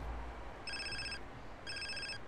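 A mobile phone in the video game GTA San Andreas rings in two bright, electronic trilling bursts separated by a pause, set over a steady low in-game hum.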